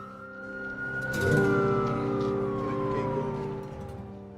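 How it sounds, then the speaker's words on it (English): A police car siren wails with a long, slowly falling tone over a steady rumble of city traffic and engines, moderately loud and fairly close. "the sound of the police cars increase"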